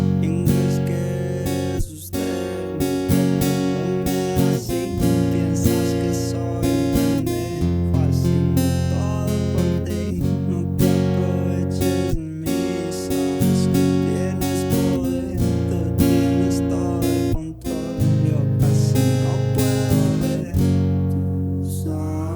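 Acoustic guitar picking the intro pattern of a song, arpeggiated notes across the strings in a steady repeating rhythm with chord changes, played alone and close for over twenty seconds.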